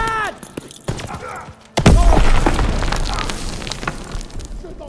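A grenade blast in the World War II shooter Call of Duty WWII: one sudden, loud boom with a low rumble that trails off slowly. Quieter game sounds come before it, and a brief voice can be heard too.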